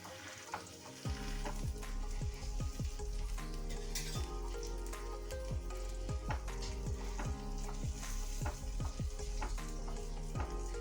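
Taco flatbreads fry in a little butter on a hot griddle, giving a steady loud sizzle throughout with repeated scraping and stirring knocks on top.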